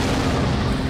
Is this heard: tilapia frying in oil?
no